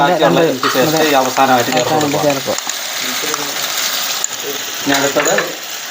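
Sliced onions sizzle steadily in a hot pan with ginger paste while a spoon scrapes and stirs through them in rhythmic strokes, close and loud, with a voice talking over the cooking.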